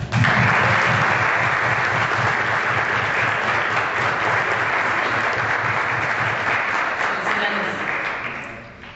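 Audience applause at a formal event honoring a senator's birthday, a full sustained crowd of clapping that holds steady and tapers off near the end.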